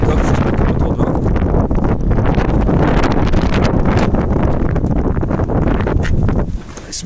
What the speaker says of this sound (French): j'espère qu'il n'y a pas trop de vent